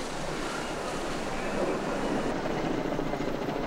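A firefighting helicopter works over a blaze at a toxic chemical factory in a built-up area, its rotor a continuous loud broadband roar and whir.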